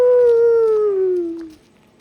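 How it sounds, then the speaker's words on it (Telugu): A single dog howls at night, one long falling wail lasting about a second and a half, loud and fairly close with no talk over it. "కుక్కలు అరుస్తున్నాయి ఒకటే"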